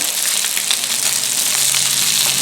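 Maple sausage links fry in butter in a pan with a loud, continuous sizzle and crackle, up close and steady throughout, with no talking.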